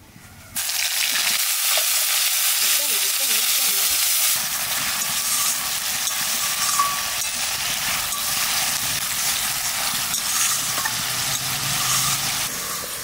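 Onion paste hits hot oil with cloves, cinnamon and cardamom in a pan for prawn malai curry, bursting into a loud, sustained sizzle that hisses steadily for the rest of the clip.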